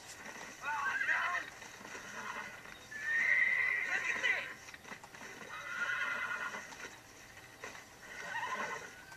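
Horses in Red Dead Redemption whinny repeatedly in four loud, drawn-out neighs, mixed with clip-clop hooves and a voice at times.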